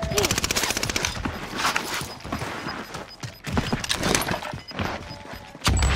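Rapid gunfire from the Call of Duty: Modern Warfare video game, in an endgame Resurgence match, bursts in dense clattering volleys throughout, with the loudest shots near the end, over busy game noise and faint voice chatter.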